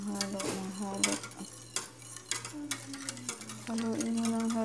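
A spoon stirs a creamy, milky gulaman mixture in a pot, giving repeated scraping clinks and knocks against the metal over a steady low hum, close and moderately loud.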